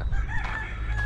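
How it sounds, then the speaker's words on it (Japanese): A free-range rooster crows close by and fairly loud, one brief cock-a-doodle-doo on a street in South India. "鶏が放し飼いにされてて、"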